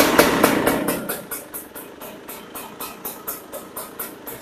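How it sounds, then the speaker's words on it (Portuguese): An MXF 300TS motorcycle engine idles steadily after starting, with a choke raised, producing an even, rapid pulsing thump close by with no talk over it. "Eu vou ligar a moto aí, vou pedir pro Dado ligar."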